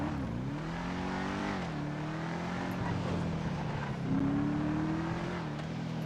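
A sports car engine in GTA 5 Online hums steadily, its pitch rising and falling as it revs and shifts, loud and continuous with no voices.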